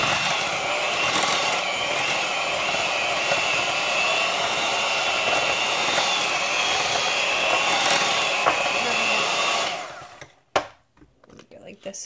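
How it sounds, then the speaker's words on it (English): An electric hand mixer beats an egg into dairy-free chocolate chip cookie batter, a steady loud whir running about ten seconds before cutting off, followed by a few faint knocks. "now you're going to beat one egg at a time"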